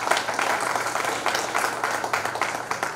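A church congregation claps together in a sustained round of applause, dense and fairly loud, with audible individual hand claps in an indoor room.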